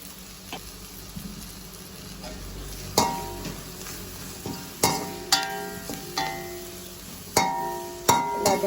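Vegetables for noodles sautéing in a pan: a steady low sizzle with repeated sharp stirring knocks and scrapes of a utensil against the pan, close and alone.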